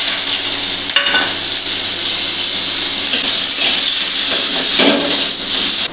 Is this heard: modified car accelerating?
no